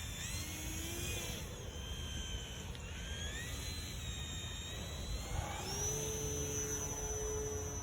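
An E-flite Air Tractor 1.5m RC model plane drones steadily overhead after takeoff, its electric motor whine rising and falling in pitch as it passes, fairly faint against a constant outdoor background.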